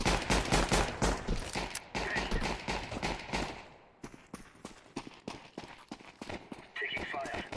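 Rapid gunfire bursts from a Counter-Strike round crackle loudly and repeatedly, a dense volley at first that thins into scattered shots, with a voice talking over the shooting.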